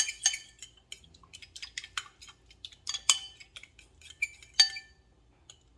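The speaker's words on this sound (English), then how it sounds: "You just use a fork, or you can use a whisk if you like. Mix this together nicely." Shrimp salad dressing stirred briskly with a metal fork in a bowl, a string of quick, close clinks and scrapes with no talking.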